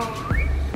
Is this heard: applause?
no